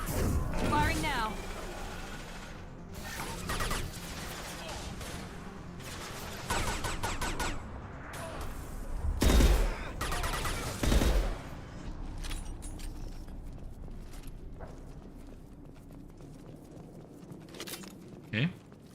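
Gunfire in the video game Mass Effect 2: repeated bursts of shots and sharp impacts fire off irregularly over game sounds, with louder blasts near the middle and some voices under the action.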